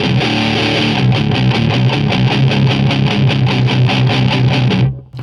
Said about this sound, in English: Chugging just sounds gross. It's just so much, it sounds like what they call blocking distortion.